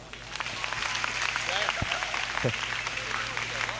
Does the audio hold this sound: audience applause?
yes